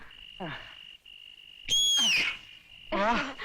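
A steady, high-pitched whistle is held for about three seconds, with brief vocal sounds rising over it.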